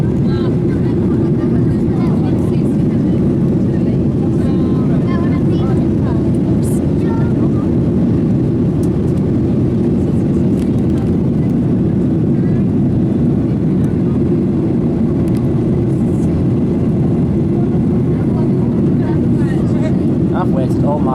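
Steady, loud cabin drone of an airliner in flight, a dense low rumble with airy hiss above it that holds unbroken and even for the whole stretch.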